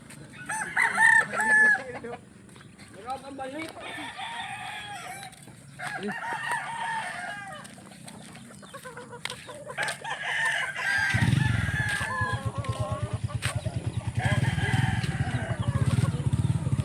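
A rooster crows repeatedly in drawn-out calls amid clucking fowl in Medellin, Cebu, Philippines, with a rumbling engine starting up partway through.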